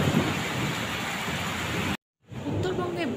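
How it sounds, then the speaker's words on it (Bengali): A Kalbaishakhi thunderstorm in North Bengal sends a dense, steady roar of heavy rain with low thunder rumble. The sound drops out briefly, then returns with a voice over it. "চৈত্র মাসের প্রথম আজকে কালবৈশাখী ঝড় হলো।"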